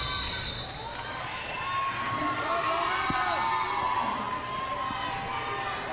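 Spectators at a junior roller derby bout between the Rose City Rosebuds and the Greater Edmonton Jr. Roller Derby Association cheer and shout steadily, a broad sustained crowd roar that swells slightly midway and fills the arena throughout.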